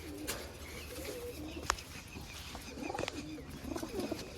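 Quiet, low cooing of racing pigeons being fed butter rises and falls in short bursts, with a sharp click or flutter partway through against faint background noise.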